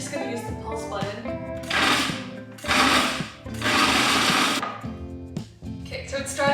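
A food processor pulses pesto with olive oil in three loud whirring bursts of one to a second and a half each, separated by short pauses, with some voice nearby.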